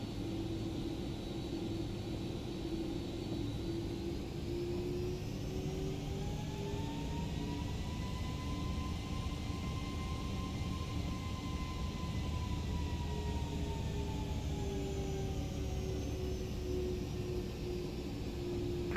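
Simulated airliner on a Delta flight taking off from runway 8 right in the Prepar3D v5 flight simulator, with a steady loud engine roar and whining tones that climb and then settle, with no talk.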